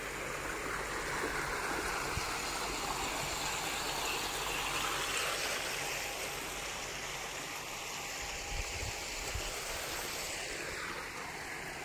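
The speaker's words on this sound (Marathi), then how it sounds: "पाणी चालू आहे भिजवायचं" Irrigation water runs steadily across a farm plot during a dry summer, a continuous rushing wash like a stream that holds even and moderately loud for the whole stretch with no talk.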